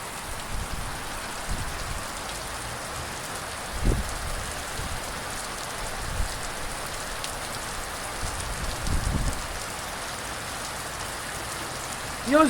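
Rain falls steadily on surfaces during the first thunderstorm of 2025, a soft even hiss with a few low rumbles and thumps breaking through now and then.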